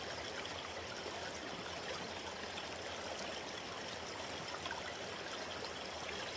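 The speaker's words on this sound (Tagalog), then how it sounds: "Higasan ko lang dito sa sapa." A stream flows steadily while a lunch box is washed in it, an even, dense rush of moving water filling the whole stretch with no voices.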